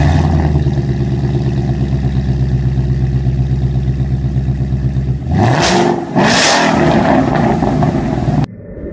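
A 2015 Ford Mustang S550 GT fitted with an MBRP street exhaust idles with a steady low rumble, then revs sharply twice in loud bursts before cutting back to a quieter idle.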